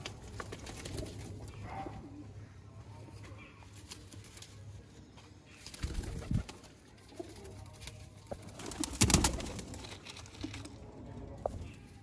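A pure breeder pair of pigeons coos softly and repeatedly near the listener, a low, steady murmur with a few louder bursts and faint clicks behind it.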